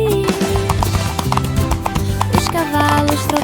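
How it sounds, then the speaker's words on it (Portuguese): Horses trot side by side on a farm in a children's song, their hooves clip-clopping in a steady rhythm beneath a loud sung melody with musical accompaniment. "os cavalos trotavam lado a lado."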